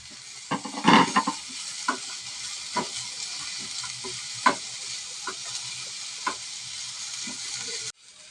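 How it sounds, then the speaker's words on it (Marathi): Ginger, garlic cloves, curry leaves and tomatoes roast in a pan with a steady broadband sizzle, broken by scattered stirring scrapes and clicks, ending abruptly near the close. "आता अद्रकचा तुकडा 1 इंच, 10-12 लसूणच्या कळ्या, 2-3 कढीपत्ते, 2 टॅमॅटो. कच्चापणा जाईपर्यंत भाजून घ्यायचं."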